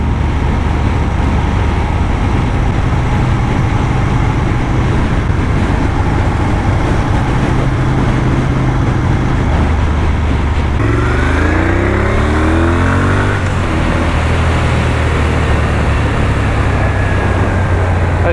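A Moto Guzzi Griso 1200 is ridden with constant wind and engine roar up close; midway the engine note drops, then climbs again in rising sweeps as the bike accelerates.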